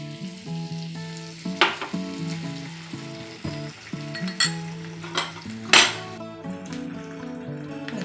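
An egg fries in melted butter in a pan with a steady crackling sizzle, broken by several sharp clinks of a utensil against the pan, close and clear with no talk.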